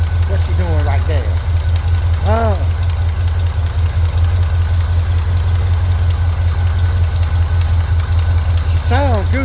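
A truck engine with a leaking exhaust manifold idles in a steady, loud low rumble throughout, with brief voice sounds rising over it now and then.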